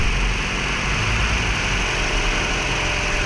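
Toyota Altis engine idling high at around 3,000 RPM with a check-engine fault, a steady, loud, continuous drone with constant broadband roar and no talk.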